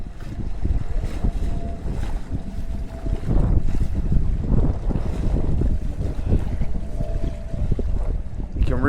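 Strong coastal wind at Cohasset buffets the microphone in a continuous low roar with gusty surges, and faint surf or water movement sounds beneath it.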